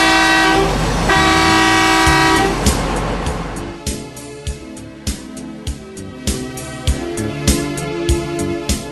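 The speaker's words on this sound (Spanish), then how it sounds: "toque 2 bocinazos, con lo cual indicará que va a ir hacia adelante." A 797 mining haul truck sounds its horn in two long, loud, blaring blasts at a fuel station. Sharp clanking knocks then follow in an irregular rhythm, with no speech.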